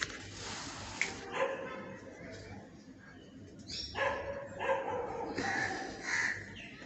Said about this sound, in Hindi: जब कुत्ता भौंकने लग गए